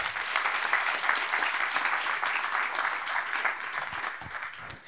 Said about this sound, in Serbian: Jedan aplauz za njih, tek će se čuti o njima.